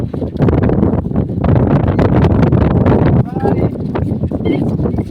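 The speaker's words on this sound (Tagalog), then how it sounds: "Lakas ng hangin eh." Strong Typhoon Gaemi wind roars steadily as loud, broadband rushing noise buffeting the microphone, with people talking throughout.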